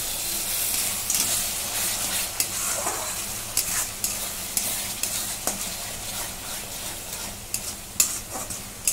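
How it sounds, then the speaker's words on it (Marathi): Shev bhaji masala sautéing in a pan, a constant close sizzle and hiss with frequent scraping and tapping of the spatula against the pan, no one speaking. "अजून जरासं परतून घेते मी."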